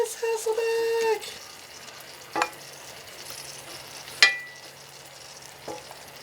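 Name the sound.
Hasselback potatoes sizzling in garlic herb butter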